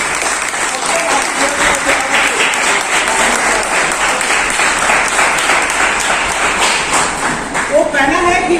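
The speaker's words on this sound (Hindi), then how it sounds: "तालियां देकर हम इन्हें" A crowd at a school celebration honouring Mother Vailankanni's birthday claps loudly and steadily for invited guests, a dense sustained applause with some scattered taps near the end.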